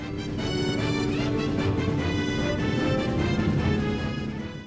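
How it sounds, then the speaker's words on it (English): Classic Final Fantasy-style battle music from a video game soundtrack, a dense, continuous orchestral arrangement with a steady driving pulse, played loud and without pause, with no voices. "This is classic Final Fantasy battle music to me"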